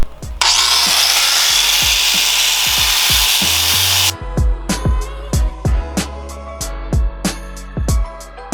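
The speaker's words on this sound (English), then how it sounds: "we're just going to do a time lapse of peeling all this coating off" A power tool worked on coating in a car engine bay, a loud continuous grinding whir for several seconds, then a rapid series of sharp, rhythmic scraping strokes up close.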